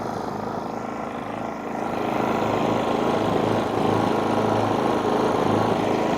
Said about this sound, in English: Let's connect the air compressor.